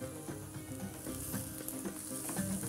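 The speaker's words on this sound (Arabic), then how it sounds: "هقلبها البطاطس مع البصلة بتاعتي تقليبة حلوة كده" Potatoes and onion frying in butter in a pan while being stirred, a close sizzle with scraping stir strokes and soft irregular crackle, no talking.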